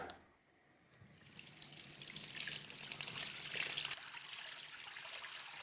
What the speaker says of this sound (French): comme il y a des gros cristaux, je le mélange bien à l'eau avant pour qu'il soit bien dissous